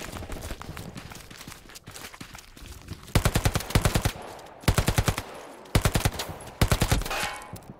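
Video-game gunfire starts with scattered single shots, then comes as four loud, close bursts of rapid automatic fire separated by short pauses.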